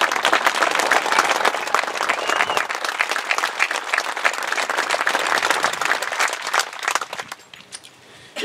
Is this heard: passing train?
no